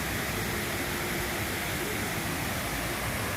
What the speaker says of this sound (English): take a look over here at the waterfalls at the barrage.